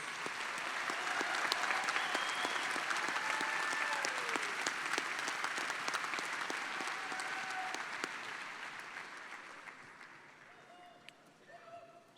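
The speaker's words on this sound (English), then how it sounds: "Please give a round of applause to the doctoral degree recipients." Sustained applause from a large commencement audience for doctoral degree recipients at a university spring ceremony, dense and steady clapping that gradually fades toward the end.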